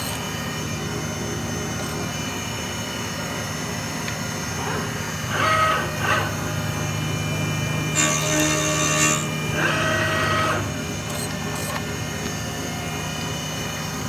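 A machine spindle runs in a job shop, a steady mechanical hum filling the room with a few brief higher whirring bursts over it and no talking.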